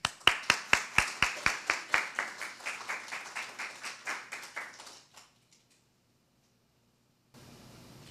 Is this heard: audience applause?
yes